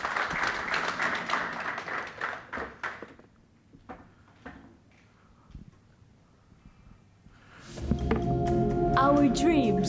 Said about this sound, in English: Let's give Baron a big round of applause.